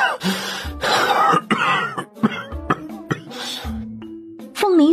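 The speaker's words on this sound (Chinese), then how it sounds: "听到连续不断的咳嗽声" A man coughs repeatedly in a close, loud series of harsh bursts with brief gaps, throat clearing mixed in, in a quiet room.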